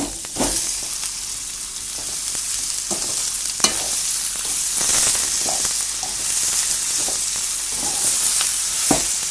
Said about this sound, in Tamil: இப்போ தக்காளி நல்லா வணங்கட்டும்